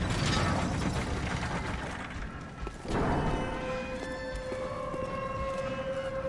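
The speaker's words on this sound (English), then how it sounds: "did you guys notice there's a lever right here?" A lever mechanism operates in the video game Bloodborne, giving a grinding, ratcheting mechanical clank followed by a sustained metallic whine and hum as the machinery keeps running, fairly loud over low ambient noise.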